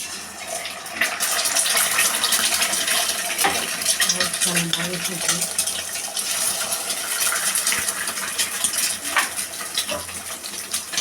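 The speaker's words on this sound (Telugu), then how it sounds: "ఆయిల్ వేసుకున్న తర్వాత గుడ్డు పగలగొట్టి పోసుకోవాలి." An egg is cracked and poured into two tablespoons of hot oil for egg fried rice, giving a loud, continuous sizzle and crackle with small spatters close to the pan.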